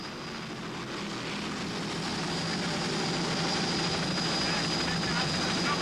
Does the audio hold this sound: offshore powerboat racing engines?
yes